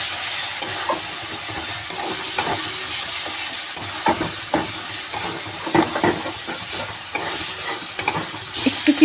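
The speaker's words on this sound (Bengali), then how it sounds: "একটু টমেটোগুলো একটু ভাজা ভাজা হোক" Softened tomatoes fry in oil in a pan for a spinach and meat dish, giving a steady close sizzle broken by frequent scraping stirs, with no talking.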